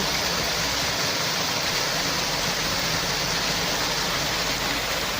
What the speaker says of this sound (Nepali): बिहानदेखि यो खोलाको आवाजहरु सुन्दाखेरि आनन्द लाग्छ